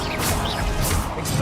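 Confringo blasting spell cast in Hogwarts Legacy, a loud, full-band blast with whooshing bursts recurring across the short moment, close and dominant, with no talk over it.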